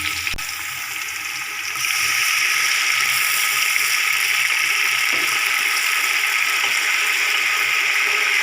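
Water poured into a frying pan of browning onions for aloo pulao, a steady loud hiss and sizzle that swells after a moment and holds, with no talk over it.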